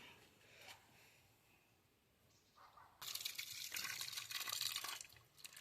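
Peeled food being scrubbed with salt and washed in water, with soft wet rubbing and splashing that grows louder and busier partway through, close by, with no talking.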